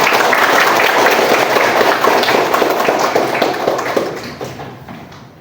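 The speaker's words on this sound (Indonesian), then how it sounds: "Oke, tepuk tangan untuk kita semua." A classroom group claps together in a steady, fairly close round of applause that holds for several seconds and then tapers off toward silence.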